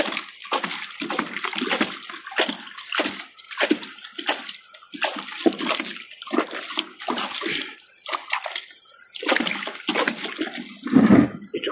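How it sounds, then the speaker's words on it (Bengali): Mustard and pumpkin plants being watered in the evening, with repeated pulses of pouring and splashing water falling like rain onto leaves and soil, close and steady for several seconds. "এখন পানি দিব,"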